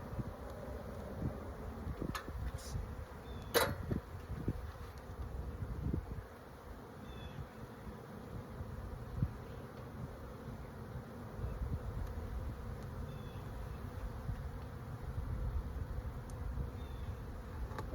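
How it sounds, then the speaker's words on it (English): A swarm of honey bees buzzes around hive frames in a steady droning hum, with a few sharp knocks and clicks from handling the frames near the start. "there are so many bees."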